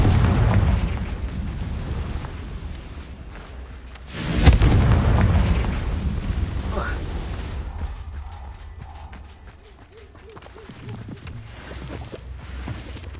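Confringo fire spell from the Hogwarts Legacy video game bursting into an explosion, a sharp loud boom that rolls off into a fading rumble over a low background bed, with a faint bird call later.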